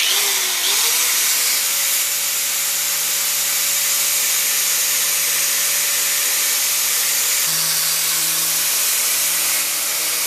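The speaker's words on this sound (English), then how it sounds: "Random orbital sander. I'll just show you how it works." A random orbital sander with a very soft pad runs continuously against wood in a workshop, giving a steady close hiss and a sustained motor whine throughout, with no talking.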